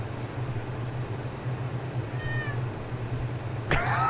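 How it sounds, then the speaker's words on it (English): A cat meows twice over a steady low background hum: first a soft, short meow, then a louder, sharper one a moment later. "she meowed at me and then she licked me a little bit."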